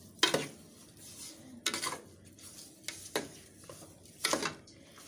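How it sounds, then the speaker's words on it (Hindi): A spoon stirs half a teaspoon of cardamom powder into a large pot of carrot halwa, giving four or five distinct scraping, clinking strokes against the pot, close and fairly quiet with soft gaps between them. "हम इसे कर लेंगे मिक्स"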